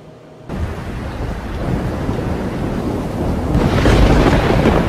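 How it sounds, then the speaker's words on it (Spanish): Thunder during a storm, a sudden deep rolling rumble that breaks in and keeps building, loud and close, with rain-like hiss beneath and a heavier surge toward the end. "¡Qué truenos tan espantosos!"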